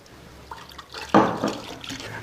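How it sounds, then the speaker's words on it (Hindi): Milk pours into a glass in a short liquid splash that swells and then trails off, close and fairly loud against a quiet background. "ये प्योर मिल्क हम इसके अंदर डाल रहे हैं।"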